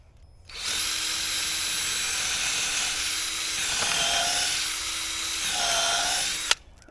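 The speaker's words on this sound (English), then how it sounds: "Now I'm going to take this and I'm going to drill" A power drill whines steadily as it bores into wood for a layered composting raised bed, a near, continuous high-pitched motor tone that dips slightly under load twice before stopping abruptly.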